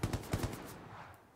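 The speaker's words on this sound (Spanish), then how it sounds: "Los tiros han sonado por aquí" Gunfire in the World War II shooter Hell Let Loose, a quick burst of four or five sharp shots in rapid succession, fairly close, followed by a fading echo with no talk.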